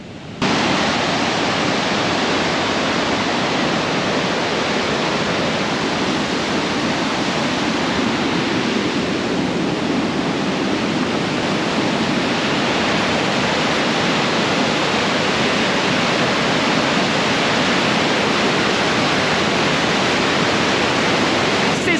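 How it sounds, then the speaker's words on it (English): Rushing waterfall with white-water rapids near Geilo, Norway, on an autumn walk by Ustedalsfjorden; a continuous, loud roar of churning water fills the whole stretch, steady and close, with no break. "It's like a white water rapid."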